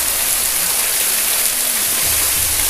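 Steady roar of a waterfall heard from inside Linn Caves at Blairskaith, Scotland, a continuous dense wash of falling water close by with no voices.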